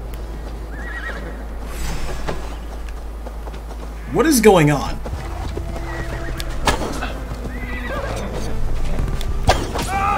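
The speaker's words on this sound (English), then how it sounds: "why in God's name is there another horse following us?" Horses neigh and whinny with clip-clop hooves in a chase in Assassin's Creed Valhalla, one sharp whinny standing out mid-clip over steady galloping, with someone speaking briefly.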